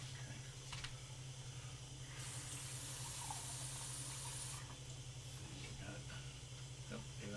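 Water pours into a cup, a broad steady hiss that swells for a few seconds over a constant low mechanical hum, with faint talk in the background.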